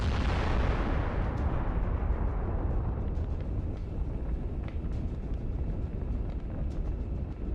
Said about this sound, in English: Once it is hit, the shells for the 125mm gun will ignite and cause a spectacular explosion.